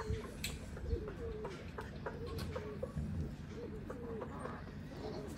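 Pigeons coo repeatedly in a loft of specially bred master-pair birds, the soft rolling calls recurring close by over a steady murmur of other birds and background noise.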